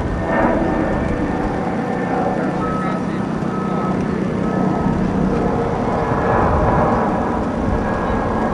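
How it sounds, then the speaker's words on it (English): A jet airliner takes off from Chiang Mai Airport with a loud, sustained engine roar that swells and holds steadily for several seconds, heard from nearby outdoors on a university campus. "Taken off from Chiangmai Airport."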